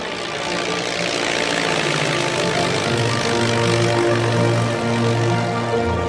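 A propeller aircraft coming in to land: a continuous droning engine with buzzing, pitched harmonics that swells slightly and shifts in pitch over several seconds, fairly loud and steady, with no voices.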